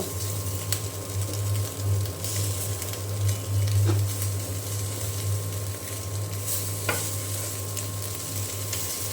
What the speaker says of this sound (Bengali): তেল গরম হয়ে গেলে কাঁচামরিচ আর পেঁয়াজ কুচি দিয়ে দিয়েছি